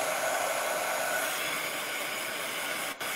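A heat tool blows steadily to dry a wet chalk transfer on a snowman craft piece, a constant loud airy whoosh that runs unbroken and then cuts out briefly near the end.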